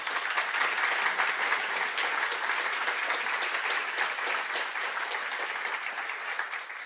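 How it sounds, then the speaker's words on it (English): Audience applause at a STEM career showcase for students with disabilities, a sustained, fairly distant wash of many hands clapping that holds steady and tapers slightly toward the end, with no talking. "Please give them a round of applause, please."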